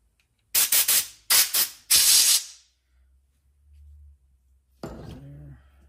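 Three sharp bursts of aerosol spray hiss in quick succession onto a carburetor main jet from a Craftsman garden tractor with a Kohler Command engine, followed by a quiet pause and a brief metallic clink with a short hiss.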